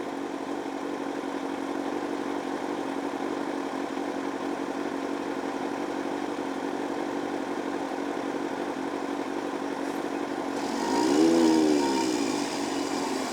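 A Yamaha R1 motorcycle fitted with D&D exhaust pipes idles with a steady, fairly quiet mechanical drone, then near the end a short rising rev swells louder before settling back.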